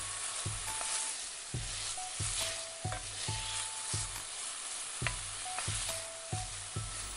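A spiced vegetable mixture with soy sauce is stirred in a pan, the spoon scraping in a steady rhythm of repeated strokes over a soft background sizzle, close and moderately loud with no voices.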